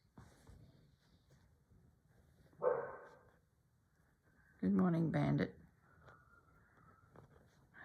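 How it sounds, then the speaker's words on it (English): A dog gives a single woof in the distance, and a nearer dog answers a couple of seconds later with a short burst of barks, over a quiet indoor background. "Heard a dog woof in the distance, and then he's replied"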